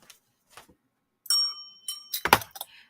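A small bell dings with a bright ringing tone that hangs briefly, amid a few knocks and clunks from handling.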